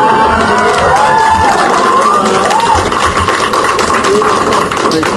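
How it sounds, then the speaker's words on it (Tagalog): Crowd noise at a press conference with the Vice President, a steady wash of clapping and cheering voices from office staff, loud and continuous with some shouting mixed in. "pumapalakpak sila sa akin"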